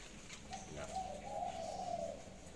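A spotted dove gives a single soft, rolling cooing phrase lasting about two seconds, fairly quiet against faint background noise.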